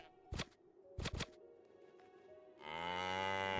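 Cows mooing in the island farming video game Spirit of the Island, a long, loud, close bellow at the end after a few sharp thwacking hits and quiet gaps.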